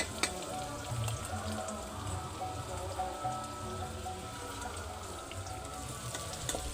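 Potatoes frying in hot oil make a continuous, dense, rain-like sizzle close by, with small pops scattered through it and no talk over it.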